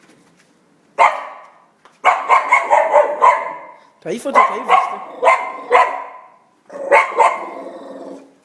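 Dogs fighting at close range, with loud repeated barks and snarling growls in rapid bursts while someone shouts urgently over them.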